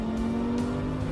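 Inside an Audi R8 race car on the Le Mans circuit, the engine holds a loud, steady tonal drone, with brief rising bursts of wind and tire noise.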